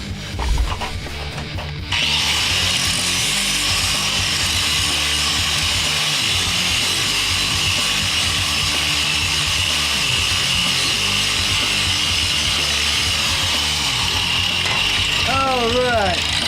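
A power drill bores into a metal VFD bracket in a home workshop, a steady close whine and grind running almost continuously for over a dozen seconds after a brief quieter lead-in.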